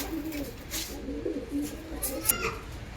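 Pairs of Malawi and Teddy pigeons cooing in a loft, soft low murmuring coos rolling on and off over a steady background, with faint higher chirps near the end and no clear speech.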